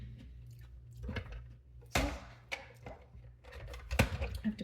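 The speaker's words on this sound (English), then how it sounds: "Just chop off that end and munch on it." The end of a raw zucchini is chopped off with a sharp crunch, then crisp crunchy munching and chewing bites follow close up, with a few louder snaps.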